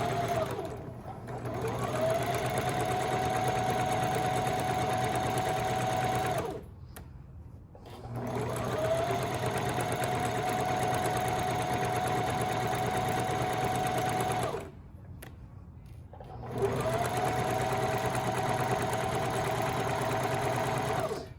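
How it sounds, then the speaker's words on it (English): A sewing machine stitches along the bottom of a tote bag in three long steady bursts of loud motor hum, with brief pauses between runs as the fabric is turned. "So right now I'm currently sewing the bottom."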